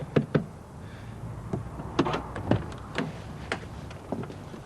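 A car door being opened, with several sharp clicks and knocks, a latch and handle rattles, close and moderately loud, and no voices.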